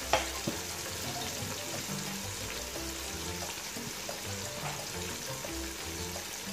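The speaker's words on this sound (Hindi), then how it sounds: "ये हमने 2 मिनट लगातार फ्राई किया है।" Garlic-ginger paste and green chilies fry in a pan with a steady, soft sizzle, and occasional stirring clinks sound over the continuous crackle.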